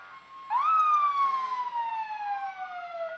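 Emergency vehicle sirens from St. Genevieve and Zell fire departments and a St. Genevieve County Ambulance District ambulance at a county fair parade, a loud wailing siren rising then slowly falling, with a second tone joining near the end.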